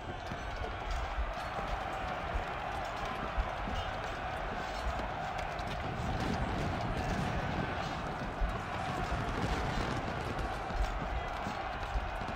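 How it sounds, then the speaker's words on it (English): Cavalry horses gallop in the strategy video game Ultimate General: Civil War, a steady massed rumble of hooves under constant battle noise and distant crowd-like din. "Oh, they got cavalry."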